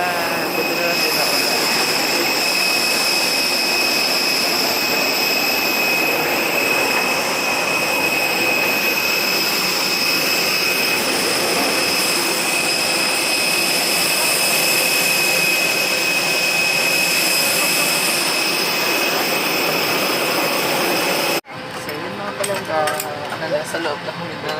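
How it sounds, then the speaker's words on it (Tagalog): Inside an airliner on a flight from El Nido, Palawan to Manila, a loud, steady engine and cabin drone with a high whine holds constant, then cuts off abruptly near the end, leaving quieter cabin sounds. "Nasa loob na kami ng aeroplano."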